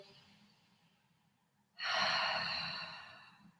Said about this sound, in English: Breathing, use your breath to release the tissue.